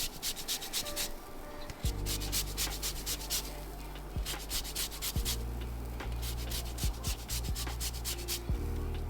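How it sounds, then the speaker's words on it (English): Two lemons are zested on a grater over a pan, with steady rhythmic scraping strokes that come in quick repeated bursts close up, over a low steady hum. "I'm gonna zest 2 lemons into my pan."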